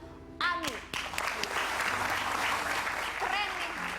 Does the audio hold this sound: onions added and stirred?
no